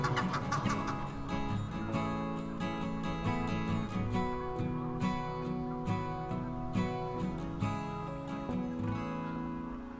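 Several Egyptian geese call repeatedly, harsh honking and cackling notes overlapping in a noisy, continuous chorus, fairly close.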